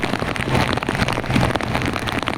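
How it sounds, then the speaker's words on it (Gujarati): Heavy monsoon rain pours down across Junagadh, a loud, steady, dense roar of drops drumming on surfaces with no break and no voices. "ગજબ વરસાદ છે. બધી સાઈડ વરસાદ એટલો જ છે."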